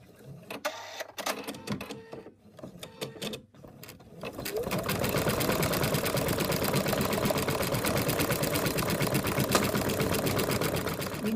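An embroidery machine stitches a securing line around a design, first in short stop-start bursts of clicking, then settling into a fast, steady mechanical chatter close by, with no voices.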